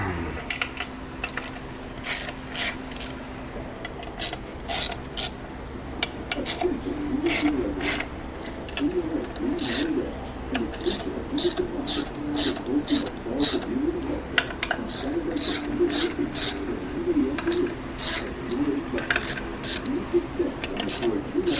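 A ratchet loosens clutch bolts during a transmission swap, giving rapid, close clicking bursts that repeat through most of the stretch. The clicks sit over a low background hum, and a person can be heard speaking at times.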